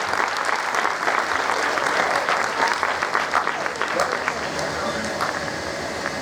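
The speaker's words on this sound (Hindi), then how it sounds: "हम जोरदार ताली उनके साथ उनका स्वागत करेंगे।" Audience applause at a Methodist church revival meeting in Nanded, welcoming the speaker: dense, steady clapping that fills the whole stretch at an even, loud level and never lets up.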